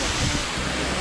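A water fountain at the entrance of the Statue of Unity splashes in a steady rushing wash, fairly loud and close, mixed with low wind buffeting on the microphone.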